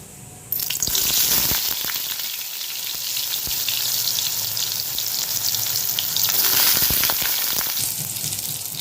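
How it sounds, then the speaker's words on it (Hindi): Soya chunks fry in a little oil in a kadai, giving a loud, continuous close sizzle that starts after a brief silence, with occasional scraping stirs and no voices. "अल्प तेल देकी सोया बड़ी को भाजी नेबे"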